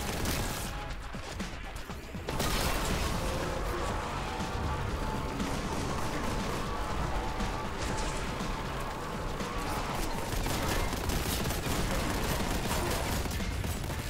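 Grab cannon firing in Warhammer: Boltgun during a final boss battle, a loud sustained barrage of heavy blasts and mechanical clatter starting abruptly and continuing densely throughout.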